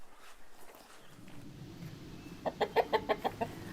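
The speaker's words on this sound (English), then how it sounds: "fed my chickens" A run of about eight sharp, evenly spaced clucks from backyard chickens nearby, following quieter scratching and rustling ambience.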